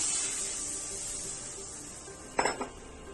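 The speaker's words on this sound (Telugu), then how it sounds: "షుగర్ కూడా ఇందులో వేసేసి మొత్తం ఇలా మిక్స్ చేసుకోవాలి" A utensil scrapes and stirs sugar into semolina halwa in a pan, giving a steady sizzling hiss with a short burst of metallic clinks near the end, close and moderate.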